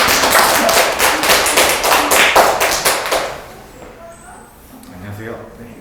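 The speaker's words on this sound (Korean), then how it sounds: "박수 한번 더 크게 주세요." An indoor audience at a high school math information session claps loudly in a dense burst for about three seconds, then fades as a voice continues.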